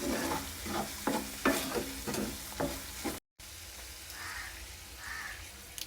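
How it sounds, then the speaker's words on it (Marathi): Oregano and chili flakes are stirred in a pan, with a series of scraping strokes over a steady sizzle, then a brief cutout before quieter frying continues alone. "हे पण आपल्याला याच्यात सॉटे करून घ्यायचं आहे पूर्ण"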